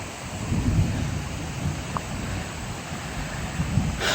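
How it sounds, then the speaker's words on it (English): Thunder rumbling during a rainstorm beside a creek, a steady low roar with heavy rain hiss throughout, no voices. "pretty nasty thunder."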